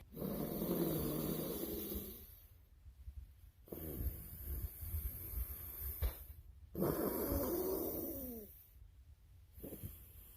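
Deep nasal breathing after rinsing with a NAVAGE nose cleaner comes as three long, loud, close inhales with snorting rasp, separated by short quiet pauses.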